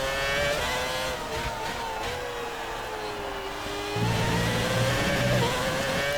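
The engine of a 2006 Renault F1 car at Monza in the F1 2019 video game revs in a high, sustained whine. Its pitch dips and rises again through shifts, with a deeper rumble joining near the end.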